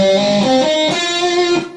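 Clean sustained electric guitar notes ring out one after another in a flowing arpeggio pattern from a song, close and clear.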